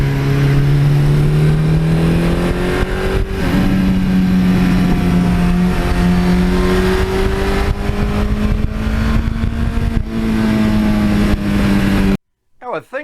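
A 42-year-old Suzuki GS1100E motorcycle engine drones loudly and continuously while riding, its pitch rising and falling with throttle changes and gear shifts, before cutting to near silence at the end.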